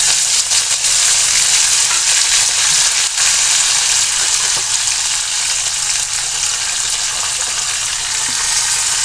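Mustard seeds, cumin and curry leaves crackling in hot oil for a Maharashtrian dahi kadhi tempering, a loud, dense, continuous sputter and sizzle with scattered sharp pops, no talking.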